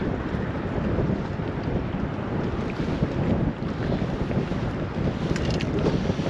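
Wind of roughly 10 to 15 mph buffets the microphone at a fishing spot on the River Humber on the UK east coast, a steady loud rumbling roar throughout with no talking.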